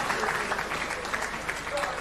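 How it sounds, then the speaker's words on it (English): Applause from shareholders at a company annual general meeting honoring the chairman and managing director, a continuous, even patter of many hands at moderate distance. "Please, a round of applause for our chairman and the GMD."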